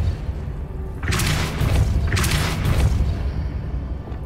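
A Depulso force spell from Hogwarts Legacy, cast as two broad whooshing blasts in quick succession over a low rumbling game background, fairly loud and close, with no speech.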